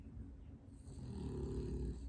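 Snoring in a single low, rumbling inhale that swells over about two seconds, faint and fairly close.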